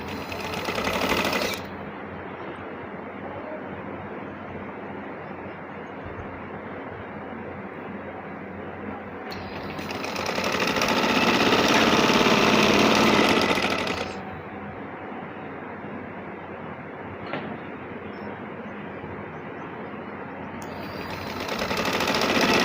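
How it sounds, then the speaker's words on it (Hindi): An electric sewing machine stitches a shirt in short runs of fast, even whirring and clattering, close and loud, separated by quiet pauses with no talking. "इधर सिलाई लगा दूँगी।"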